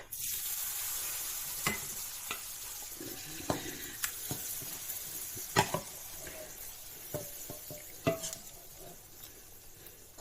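Thai fried shellfish (hoi tod), a second batch cooking in a pan, gives a steady close sizzle broken by sharp clicks and scrapes from a metal spatula at irregular intervals.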